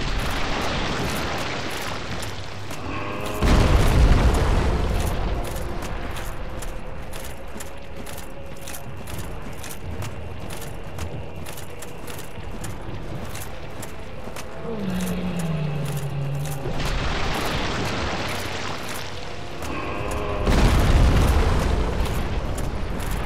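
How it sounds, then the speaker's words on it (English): Loud bursts of a lava monster's fire attack in the Dark Souls video game, two heavy blasts roaring over a dense, rumbling game soundscape, with a short descending tone between them. "I've never seen him do that shoot fire attack."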